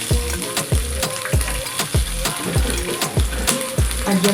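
Chopped onion sizzles in hot oil in a pan, with a steady fry hiss broken by repeated rhythmic scrapes and stirs of the spatula, close and fairly loud.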